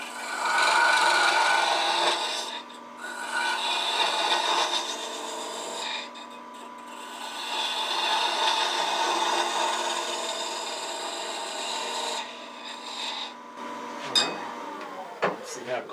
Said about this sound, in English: I think if I just taper it down just a little bit on the end, it'll fit fairly snugly